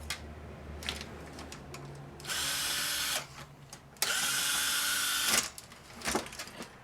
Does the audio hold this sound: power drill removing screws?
yes